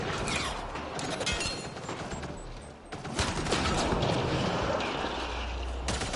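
Continuous rattling gunfire fills the scene in Mass Effect Andromeda: a dense, steady fusillade with brief dips, loud and close throughout.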